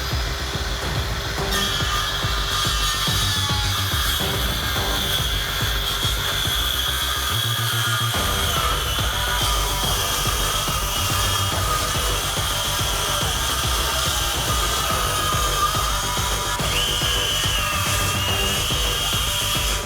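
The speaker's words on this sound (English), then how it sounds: "doing it freehand with a SKIL saw, that is a really good result" A SKIL circular saw cuts freehand through pine strip wood, a loud steady whine that runs throughout and dips briefly partway through the cut.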